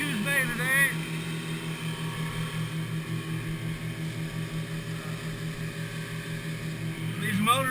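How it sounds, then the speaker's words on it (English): A Bayliner 2032 Trophy boat runs on twin Mercury 115 four-stroke outboards in Coos Bay. The engines give a steady, close drone with a low rhythmic throb, and someone speaks briefly at the start and end. "This boat's powered with twin Mercury 4 strokes, 115s."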